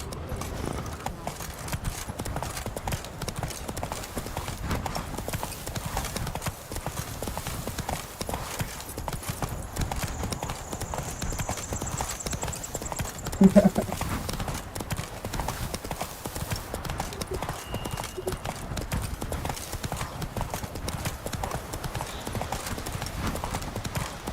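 Hooves of Roach, Geralt's horse in The Witcher 3, clip-clop in a steady walking rhythm throughout over an outdoor ambience, with one brief louder knock midway.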